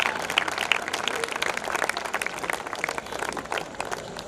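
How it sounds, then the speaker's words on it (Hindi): A crowd applauds steadily at a school event run with a coaching institute, a close, continuous patter of many hands clapping with a few sharper individual claps and no speech over it. "तालियां बजाते रहिए प्लीज।"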